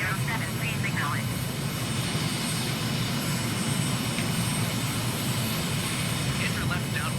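A simulated airliner engine drones steadily in flight near Incheon, South Korea, a continuous low roar with faint tonal whines over it and no speech heard.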